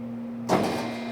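A bread dough mixing machine starts up to stir water, a sudden motor whir kicking in after a low steady hum and then running on evenly.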